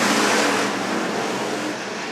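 Hobby stock race cars roaring off at the green flag start of a final feature at Worthington Speedway, a loud dense wall of engine noise that swells at first and then holds steady as the field gets underway.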